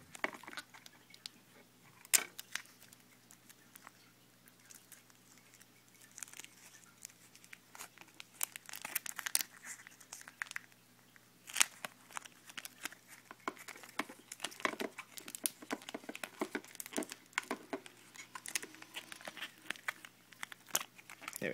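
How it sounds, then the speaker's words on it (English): A sticker being peeled off iPod Touch 4G packaging, faint crinkling and tearing plastic in scattered bursts, close and quiet with no voices. "So let's take off this sticker"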